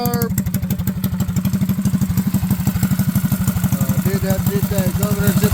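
A Predator 212cc small engine with its stock carburetor idles nearby with a steady, rapid putter and slight clatter, the rhythm holding even throughout.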